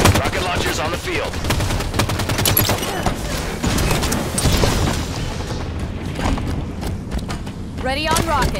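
Rapid automatic gunfire and heavy booms from a Halo 5 Arena Strongholds match on the Eden map, loud and nearly continuous, with shots clustered in dense bursts and a brief lull near the end before another volley.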